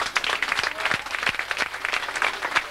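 Audience applause at an event for the Madiran rally and local associations, a dense patter of clapping close by that keeps up evenly for a few seconds.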